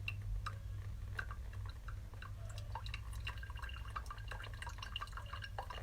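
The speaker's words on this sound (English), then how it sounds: "Those really big particles, they're letting the water flow right through." Brewed coffee drips through coarsely ground beans into a cup as a steady patter of small drops over a low hum, with no talking.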